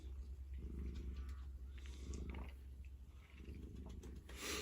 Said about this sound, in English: You can see how, like she's having problems breathing.